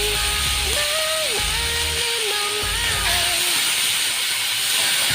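Chopped onions sizzle in hot mustard oil in a home Bengali kitchen, a steady broadband hiss holding for the whole stretch, with faint tonal background sound and no talk.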